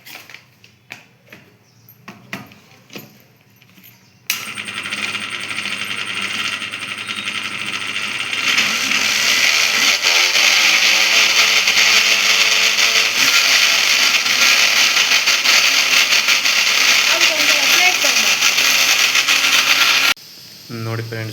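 A kitchen mixer grinder starts after a few light knocks and runs loud and steady for about fifteen seconds, its motor whine shifting slightly partway through before it briefly stops and starts again.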